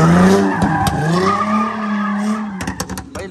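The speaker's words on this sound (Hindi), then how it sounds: "ये मार रहा है ना डोनट को भाई। आवाज चेक कर इसकी।" Sports car tires skid and squeal loudly during donuts beside a race track, a sustained screech with the engine droning underneath, then breaking into short choppy bursts toward the end.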